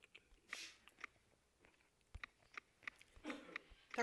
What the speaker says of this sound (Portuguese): Tá comendo papel, garoto?